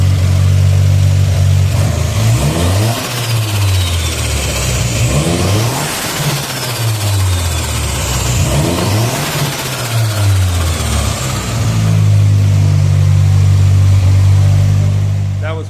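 A turbocharged Nissan KA24E engine with a custom scrap-built downpipe and catalytic converter revs repeatedly, rising and falling through a loud droning exhaust note before settling back to a steady idle.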